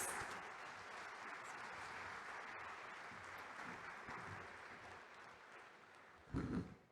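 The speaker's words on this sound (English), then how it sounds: "Let's have a big round of applause." Audience applause at a conference, a dense crowd clapping, goes on steadily for several seconds and then fades out, with a brief thump near the end.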